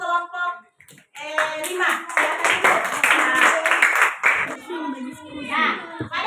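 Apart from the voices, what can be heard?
classroom clapping for a group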